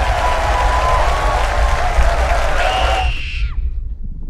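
A dense roar of audience cheering and applause fills a speech scene in the film Oppenheimer, then cuts away sharply and fades toward near silence at the end.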